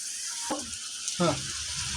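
Onions fry in a pan with a little salt while they brown, giving a steady close sizzle under two brief stirring scrapes, the second one louder.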